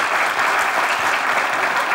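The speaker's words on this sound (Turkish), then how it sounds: "Seda Sayan performansıyla gerçekten alkışlayalım" Studio audience applause on a television comedy sketch show, a loud, dense and steady burst of clapping with no speech over it.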